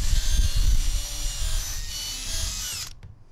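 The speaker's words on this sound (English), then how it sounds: "starting the holes off with a self-centering drill bit before fully drilling through the steel of the roof and into the wooden frame" A power drill with a self-centering bit boring through the steel roof of a camper van into the wooden frame beneath, a loud steady whine with grinding low rumble that cuts off near the end, no talking.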